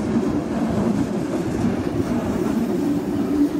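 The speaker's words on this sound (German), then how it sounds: "jetzt haben wir hier noch eine S6, die hier in Essen Hauptbahnhof endet, reinkommen" An S-Bahn Rhein-Ruhr S6 commuter train, an unmodernized class 422 electric unit, rolls into Essen Hauptbahnhof with a steady low rumble and clatter of wheels, heard alone and fairly close throughout.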